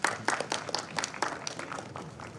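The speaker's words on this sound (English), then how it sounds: "A huge round of applause for sir," Audience at a national conference of radiographers and technologists applauds, a dense patter of many hands clapping at moderate distance, fairly quiet, with no speech over it.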